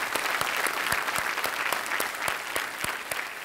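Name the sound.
audience applause welcoming a guest on a TV quiz show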